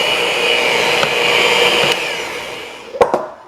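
An electric mixer creams butter and sugar for fruitcake cookie dough, giving a loud, steady whirring motor drone for about three seconds before it cuts off with a couple of sharp clunks.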